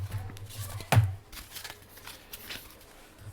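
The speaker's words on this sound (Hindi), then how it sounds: "हाँ, तो मैं यहाँ पे कार्ड्स रख रहा हूँ।" Tarot cards being shuffled and set down during a Hindi tarot reading: one sharp card snap near the middle among soft papery rustles and light taps, quiet and close, over a low hum.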